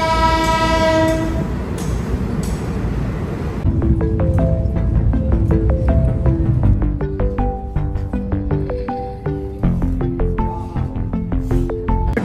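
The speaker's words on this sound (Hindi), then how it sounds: "हमारी ट्रेन पहुंच चुकी है लालकुआ" A passenger train pulls into Lalkuan station in Uttarakhand, India, a loud horn blast opening the clip before a steady run of rhythmic wheel clicks and clacks over rail joints as the carriages roll in close by.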